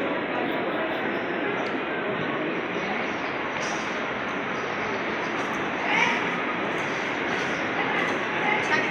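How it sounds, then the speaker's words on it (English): A train rumbles past close by at a station in Great Britain, a continuous loud roar of wheels and carriages with occasional faint squeaks over the steady noise. "I'm on my way to the train station."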